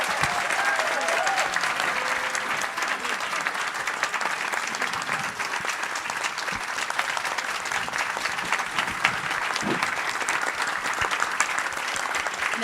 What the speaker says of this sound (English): And so another applause